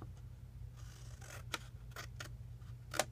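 Scissors snipping paper for a paper Easter basket made from one 12x12 sheet, several crisp close cuts at irregular intervals over a low steady hum.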